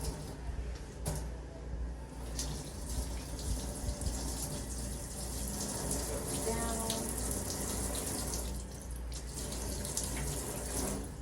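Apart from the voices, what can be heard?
tap water running while rinsing hands and forearms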